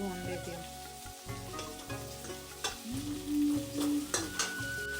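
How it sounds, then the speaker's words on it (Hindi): Spices for a chickpea gravy roast in a pan, giving a steady sizzle and scrape of stirring throughout, with music playing loudly over the cooking. "इसलिए मैं सोच रही हूँ पहले इनको भून देती हूँ"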